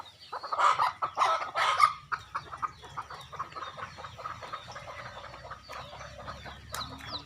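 Village hens clucking, with a few louder close squawks at the start, then quieter scattered clucks and a brief distant rooster crow near the end.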